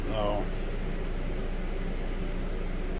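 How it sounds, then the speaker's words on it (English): A constant, even hiss of an air conditioner inside an RV runs throughout, with a brief voice fragment at the very start and a short dropout at the end. "once again I apologize for the AC noise"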